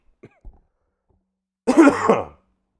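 A couple of faint small throat sounds, then after a pause a single harsh, close cough lasting about half a second.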